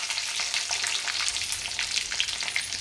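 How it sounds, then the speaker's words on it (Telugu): Garlic fries in a hot tempering with mustard seeds and cumin, a dense, crackly sizzle with rapid popping spatters held close and steady throughout, no voices. "అందులోనే వెల్లిపాయ వేస్తున్నానండి"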